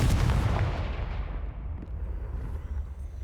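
A Confringo fire spell blast in the video game Hogwarts Legacy, a heavy booming explosion that hits loud at once and then rolls off into a rumbling, fading tail.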